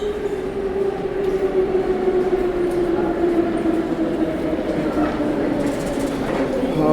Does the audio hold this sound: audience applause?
no